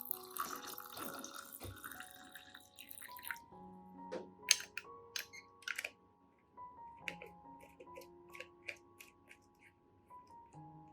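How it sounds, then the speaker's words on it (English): Water pours noisily for about three seconds, then stops, leaving scattered drips and small clinks in a quiet room. "Add about 500 milliliters of clean water."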